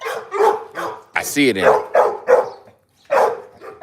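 A Neapolitan mastiff and pit bull mix dog barks in a short burst amid a man's steady, close talking, which runs over most of the moment.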